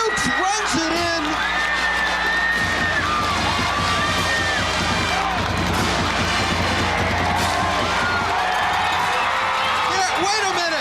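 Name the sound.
high school football crowd cheering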